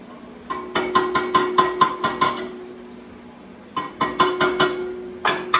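Rapid metallic hammer strikes ring out in bursts in a weld shop during work on an S10 radiator, a quick run of blows, a pause, then more clanging hits close by.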